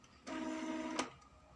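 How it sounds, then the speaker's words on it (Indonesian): An inkjet printer hums briefly and steadily as it runs its print head cleaning cycle. The motor tone holds for under a second and ends with a short click. "kung narinig nyo pa yung tunog ng printer, yan ay nag-cleaning pa"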